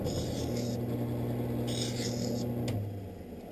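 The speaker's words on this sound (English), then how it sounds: "put the safety bevel onto the lens" An optical lens edger grinding a safety bevel onto an eyeglass lens, giving a close, steady whirring and rubbing hum with a brief higher scraping burst partway through before winding down.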